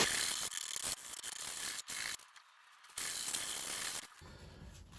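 Coarse 40 grit sandpaper scrubs over smooth, sticky body filler during a Jeep Patriot body repair, giving rough, broadband rasping strokes with a few brief pauses and a quieter gap midway.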